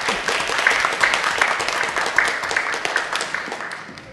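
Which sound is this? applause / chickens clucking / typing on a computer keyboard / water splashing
applause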